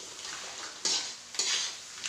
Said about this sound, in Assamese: কেঁকুৰা আৰু মেষ্টা টেঙাখিনি একেলগে অলপ সময় ভাজি ল'ম।